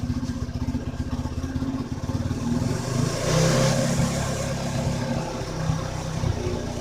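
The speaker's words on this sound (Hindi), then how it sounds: "जब आप बाइक को स्टार्ट कर लें तो उसकी आरपीएम को बढ़ाएं" A motorcycle engine idles with a rapid chugging pulse, then its RPM is raised and holds a higher, rougher roar before settling back, close and loud.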